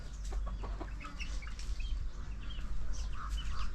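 Desi free-range village chickens cluck and call in a continuous overlapping chorus, close and fairly loud, with scattered sharper squawks and no talking.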